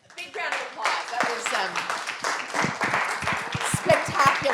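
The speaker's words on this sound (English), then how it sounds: "Big round of applause." An audience claps in a sustained round of applause after presentations at a values and changemaking event, dense and steady throughout with a few louder individual claps standing out near the end.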